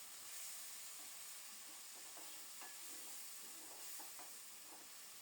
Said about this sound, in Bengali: শুটকিটা মনের মতো করে ভাজা হলে পেঁয়াজ রসুন বাটা দিয়ে দিলাম। নেড়েচেড়ে কিছুক্ষণ কষিয়ে নেব।